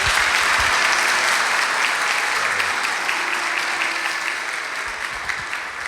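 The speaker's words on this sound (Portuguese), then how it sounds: "Eu queria que você recebesse o Sidney com uma salva de palmas" Audience applause welcoming pastor Sidney Costa at a church gathering, a steady, dense clapping from a crowd filling the room throughout, slowly easing off toward the end.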